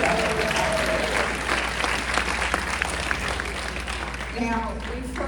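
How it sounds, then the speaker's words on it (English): Audience applause from a seated crowd at a talk on smart goals, dense steady clapping throughout, with a voice beginning to speak near the end. "I want you to give yourself a round of applause."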